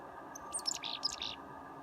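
Wild birds at a feeder after snowfall: a brief cluster of several quick, high chirps and tweets close by over a faint steady background hum, no talk.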